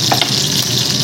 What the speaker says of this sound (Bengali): এবার পকোড়াগুলোকে ভেজে নেবো।